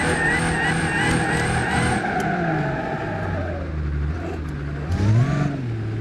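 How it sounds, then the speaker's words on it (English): A dually pickup truck drifts in BeamNG, its engine droning and revving in rising and falling sweeps with tire skid hiss, loud and continuous with a surge near the end. "And yes, I am drifting a dually right now."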